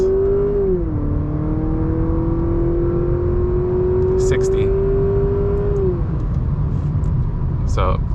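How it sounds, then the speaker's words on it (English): A 2023 Honda Accord Sport hybrid accelerating hard inside the cabin, a steady engine drone that rises, drops as it shifts gears, then settles, with a low road rumble underneath and brief sounds near the end. "if you were to just gun it now, it shifts gears"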